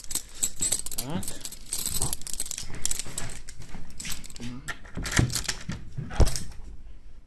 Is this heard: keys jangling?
yes